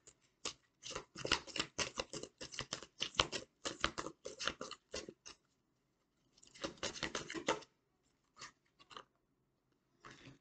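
Rapid riffling and snapping of a deck of cards in quick bursts, a long flurry followed by a pause, another flurry, then a few scattered flicks.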